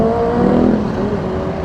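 A big bike motorcycle revs and passes, a loud, sustained engine whine that swells briefly and then holds, heard close with no talking.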